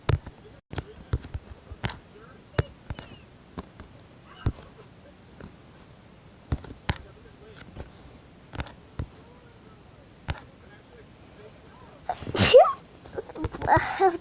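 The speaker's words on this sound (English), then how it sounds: "Oh geez, I have to sneeze." One sudden sneeze bursts out near the end, loud and close, with a short follow-up sound after it. Before it comes a long stretch of light, irregular clicks and taps, like fingers on a screen.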